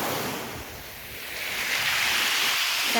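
Surf on Kolbano beach in NTT, Indonesia, washing steadily ashore with a broad, continuous hiss that swells slightly partway through, mixed with some wind buffeting on the microphone and no voices.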